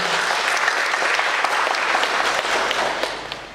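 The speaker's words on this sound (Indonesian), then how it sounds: "Kita berikan tepuk tangan yang meriah untuk acara ini." Loud, dense applause from an audience at a Halal Bihalal gathering for Eid al-Fitr 1445 Hijri, a steady crowd roar of clapping with no pauses.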